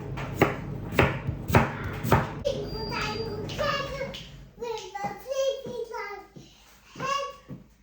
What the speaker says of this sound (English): I'm going to chop it all up